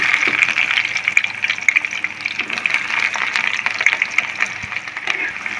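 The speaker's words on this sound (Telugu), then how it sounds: "ఆవాలు జీలకర్ర వేగిన తర్వాత కట్ చేసిన ఒక ఉల్లిపాయని వేసుకుంటున్నాను" Chopped onion goes into hot oil with cumin and mustard seeds and fries with a steady, close hiss and sizzle, with no talking.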